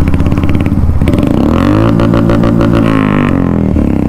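Hero Hunter or Splendor motorcycle engine idling close by, a loud steady low throb that rises briefly with a blip of throttle in the middle before settling back, with no talk.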